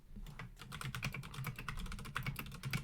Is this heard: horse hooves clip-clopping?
no